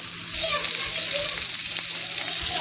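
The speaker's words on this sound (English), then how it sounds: "let's go ahead and brown these up in the frying pan" Steady, dense sizzling of meatballs for albondigas soup browning in a hot frying pan, loud and close, with faint scattered pops.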